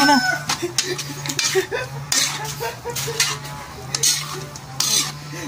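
Bupis cooks in a pan as vinegar is added, giving a continuous close sizzle broken by repeated scraping and clinking stirring strokes, with a steady low hum underneath.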